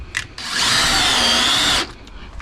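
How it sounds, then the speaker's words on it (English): A power drill drives a 2-inch epoxy screw into the edge of a house mix solution tank inside an enclosed pressure washing trailer rig, one loud close whine lasting over a second with brief clicks before and after. "I just drilled the edge of the solution tank, house mix tank."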